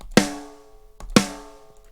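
Two dry, punchy snare drum hits through close mics about a second apart, close and tight with short decay.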